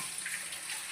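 Tap water running steadily into a sink while dishes are washed, a soft continuous splashing hiss with no talking.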